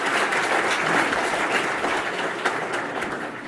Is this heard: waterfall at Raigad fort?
no